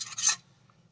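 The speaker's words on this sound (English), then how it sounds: "I'm going to get some surround off the edge of the basket here that's hanging on." Old foam surround scraped off the edge of a Boston Acoustics A-120 woofer basket: two quick, close rasping strokes, the second louder, then near silence.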